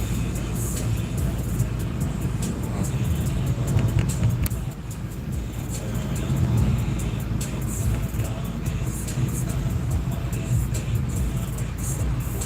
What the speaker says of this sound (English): If I'm not mistaken, that's a Mazda 3.